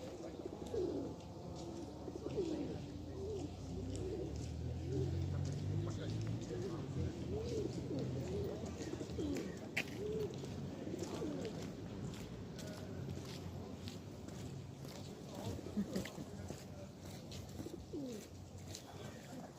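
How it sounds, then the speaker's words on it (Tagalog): Pigeons coo repeatedly while being fed bread outdoors, a low murmuring chorus running steadily throughout, with occasional footsteps and soft chirps mixed in and a person speaking now and then over the birds. "Yan guys, nabigyan na natin ng mga pagkain ng pigeons, ang kalapati."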